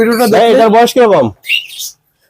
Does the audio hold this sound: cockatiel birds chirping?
yes